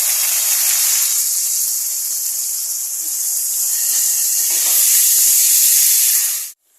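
Tomato paste frying in a hot pan while making egg-stuffed kofta curry, a loud, steady, close sizzling hiss that holds for several seconds and then cuts off abruptly.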